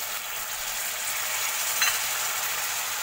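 Egg chilli sizzling in a pan with soy sauce just added, a steady bright frying hiss throughout with a brief stir around the middle, no talk.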